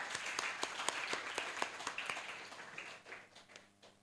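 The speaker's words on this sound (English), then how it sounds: "give him a big applause" An audience at a guest lecture gives a burst of applause to welcome a speaker, many hands clapping at a distance that fades off toward the end.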